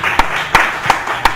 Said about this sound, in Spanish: Vamos ahorita a darle un fuerte aplauso.